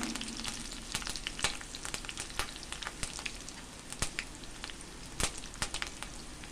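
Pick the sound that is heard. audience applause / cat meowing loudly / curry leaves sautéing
curry leaves sautéing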